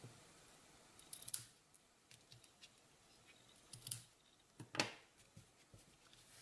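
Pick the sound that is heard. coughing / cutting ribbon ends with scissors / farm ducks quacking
cutting ribbon ends with scissors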